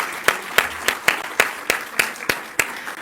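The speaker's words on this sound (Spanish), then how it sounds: "Pedimos un aplauso para todos los participantes" Audience at a panel session on Plan México applauding the participants, steady rhythmic hand claps at close range, loud and even, with no one speaking over them.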